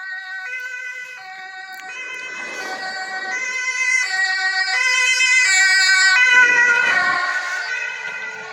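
A loud two-tone police siren wails close by on a German motorway, alternating pitches in a steady rhythm as it grows louder and then fades slightly.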